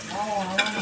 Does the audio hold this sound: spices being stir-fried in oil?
yes